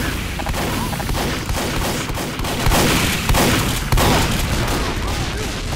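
Rapid bursts of gunfire in Team Fortress 2 crackle continuously and loudly through the whole stretch, dense and layered, with heavier peaks near the middle and end.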